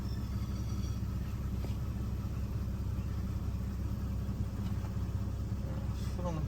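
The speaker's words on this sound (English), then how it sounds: "Jeez, that is idling really low." A Ford ED Falcon with about 200,000 on the clock idles very low, a steady mid-pitched engine rumble that holds even throughout, close by with no talking over it.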